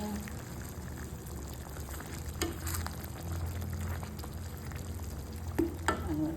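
A creamy pork and mushroom pasta sauce bubbling in a pan, with a steady close sizzle and the wet swish of stirring, plus a few sharp utensil clinks near the end.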